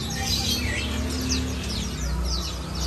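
Several canaries chirp and tweet in quick bright bursts, close and lively, inside a bird shop over a low indoor hum.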